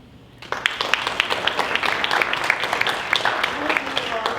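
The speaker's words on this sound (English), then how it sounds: "Please join me in a round of applause, thanking Mike for his 10 years of dedicated service to Hardyston." A roomful of people at a Hardyston school board of education meeting breaks into steady, sustained applause. The crowd claps evenly and closely for several seconds to honor a departing staff member.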